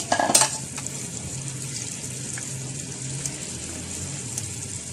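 Cooked chicken tips into a pot for Bombay biryani with a brief clatter of the spoon against the pan, then a soft steady sizzle carries on, close and moderate.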